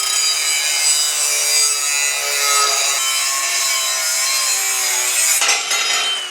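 Flat metal stock being cut into brackets of differing lengths, a steady continuous sawing and rasping that stays loud and close throughout, with a brief shift in tone near the end.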